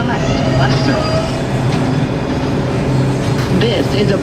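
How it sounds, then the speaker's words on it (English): A Brooklyn-bound NYC subway R142 4 express train runs, a loud, steady roar with rail rumble and faint clatter all through, heard from inside the car as a voice speaks over it. "This is a Brooklyn-bound 4 express train."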